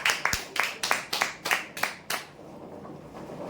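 Applause from an audience at a prize draw for a parlour chair winner, about eight distinct claps in a steady rhythm that stop after two seconds, leaving faint room noise.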